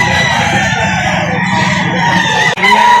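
A rooster at a poultry market in Lipa City, Batangas, crows and clucks loudly and close, sustained throughout with a brief dropout near the end.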